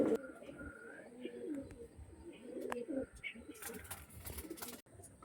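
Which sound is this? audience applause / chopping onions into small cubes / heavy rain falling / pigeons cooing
pigeons cooing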